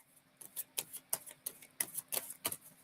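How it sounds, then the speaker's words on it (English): Tarot cards are shuffled in quick, crisp riffling bursts, about ten close snaps in an uneven rhythm against a quiet background with a faint hum. "Just getting a good shuffle in."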